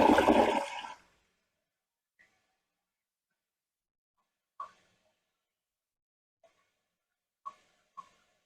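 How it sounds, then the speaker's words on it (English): A newly installed toilet flushes with a loud burst of rushing water at the start, cutting off within a second and leaving silence broken only by a few faint drips and clicks as the tank refills. "now I'm going to flush it to make sure there isn't any leaks"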